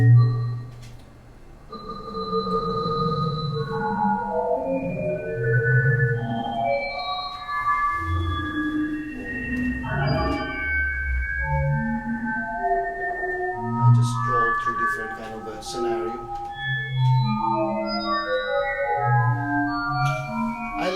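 Overlapping electronic sine tones pop in and out at many pitches, forming a dense, shifting pattern of pure beeps with no talking.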